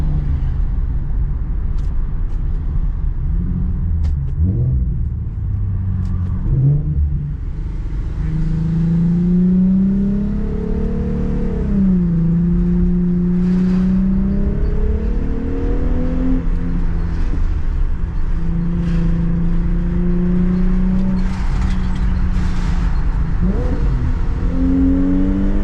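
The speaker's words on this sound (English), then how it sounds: "What does downshift sound like?" A VW MK4 GTI engine revs and drops through downshifts, its pitch swooping up and down in repeated steady sweeps, loud and close for the whole stretch with no talking.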